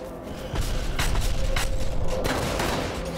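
A pesticide weapon fires in the Drake Hollow video game: a rapid burst of repeated shots in quick succession, loud and continuous for a few seconds.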